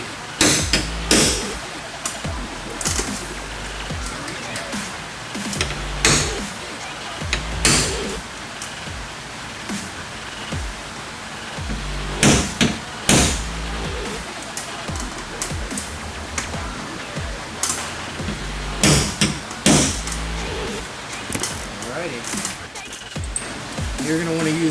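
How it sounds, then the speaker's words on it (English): Sharp metallic hammer strikes on a center punch ring out in scattered clusters over a steady noisy background, with a voice speaking occasionally, marking metal on a 5th-generation Toyota 4Runner for drilling. "We're going to center punch them for drilling."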